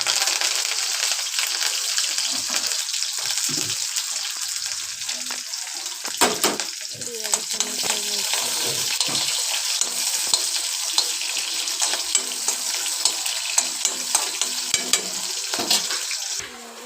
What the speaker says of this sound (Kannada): ಸಾಸಿವೆ ಜೀರಿಗೆ ಆದಮೇಲೆ ಈರುಳ್ಳಿ ಮೆಣಸಿನಕಾಯಿ ಕರಿಬೇವು ಹಾಕಿ ಚೆನ್ನಾಗಿ ಚೆನ್ನಾಗಿ ಫ್ರೈ ಮಾಡಬೇಕು